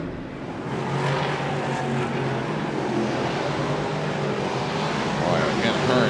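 Race cars roaring around the track at Syracuse during the 2002 Eckerd 200, a steady, distant engine drone with a broadcast commentator talking over it throughout.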